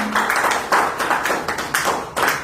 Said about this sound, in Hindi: हम तालियों से वंदन करते हैं।